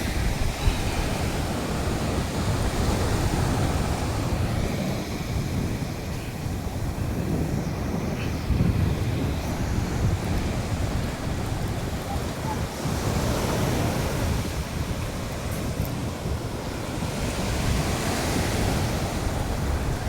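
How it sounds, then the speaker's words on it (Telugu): Sea waves wash continuously onto a beach where shells are being tossed ashore, a loud, steady roar of surf with wind rumbling across the microphone throughout. "ఈ సముద్రపు అలల దెబ్బకి గవ్వలు కొట్టుకొని వస్తున్నాడు."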